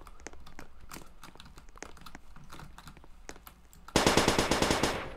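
Rapid submachine gun fire from a Roblox shooter game breaks out loud and close in a fast burst near the end, following scattered quieter clicks and shots.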